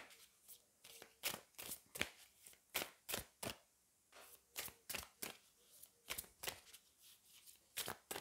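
Tarot cards being shuffled, a quiet close series of crisp riffling flicks repeating in a steady rhythm, alone without talk.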